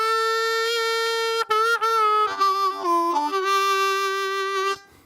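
A blues harmonica plays a riff in the style of a noted blues harmonica player, clear reedy tones moving through scooped draw bends that dip and return in pitch, played close and alone with no talking.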